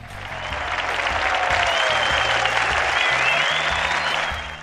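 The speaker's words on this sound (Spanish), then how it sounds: "Aplausos para Alberto" A classroom audience applauds a student during a national secondary-school lesson broadcast on radio, with dense, steady clapping that swells in, holds for several seconds, then fades, plus a faint tonal hum underneath.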